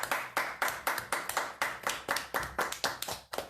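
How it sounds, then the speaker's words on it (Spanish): A few people clapping together at a Spanish-language church service, about a dozen evenly spaced, crisp claps close by and moderately quiet, with no voices. "Damos un aplauso al Señor."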